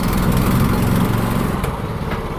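Engine of a manual tracked dumper with a clutch and hydraulic dump bed running steadily, a loud, close, continuous drone with a small dip in level near the end.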